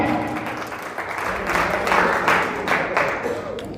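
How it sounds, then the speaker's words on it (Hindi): An audience at a poetry event claps steadily for several seconds, a dense and fairly loud round of applause with no break. "जोरदार तालियां"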